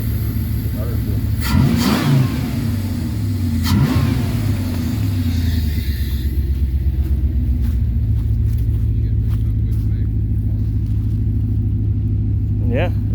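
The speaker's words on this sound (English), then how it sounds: "Yeah, the truck sounds really good." A Dodge Dakota R/T pickup truck's 5.9 engine revs a few times with rising and falling pitch, then settles into a steady, even rumble at idle nearby.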